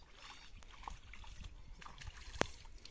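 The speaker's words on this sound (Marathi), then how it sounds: "गेला, पिंजरा गेला पाण्यामध्ये." A crab trap cage drops into water with one brief, faint splash. Soft sloshing and quiet outdoor background surround it.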